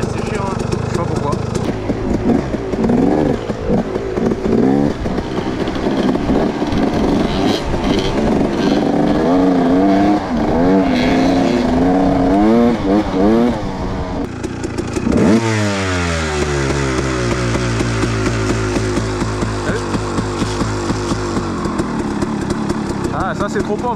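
A motorcycle engine revs loudly and close up during carburetor jet tuning, running lean at the bottom end. It rises and falls repeatedly, hangs at high revs, then drops and climbs again, with people talking over it.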